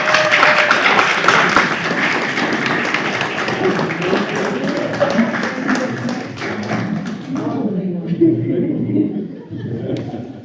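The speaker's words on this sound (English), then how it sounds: "Round of applause." Applause and clapping from the audience at a school board meeting, a dense patter of hands close by that thins out near the end, with voices and light laughter mixed in.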